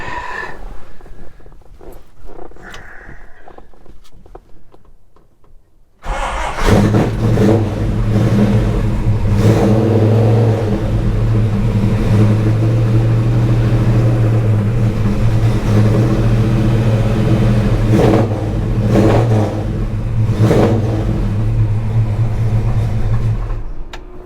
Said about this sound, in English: I know you guys want to hear the engine, so I've got her warmed up and hopefully she'll turn over for us.